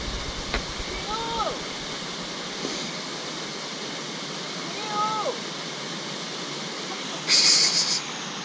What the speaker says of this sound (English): Another nice waterfall along the trail after that steep climb we just had.